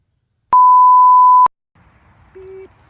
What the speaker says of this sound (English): It's reverse beep, you know?